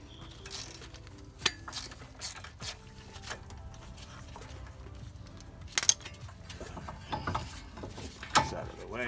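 A hand ratchet works bolts loose on a bracket during a front wheel bearing replacement on a Hyundai Sonata, giving rapid clicking pawl runs and metallic clanks in irregular bursts, close and fairly quiet.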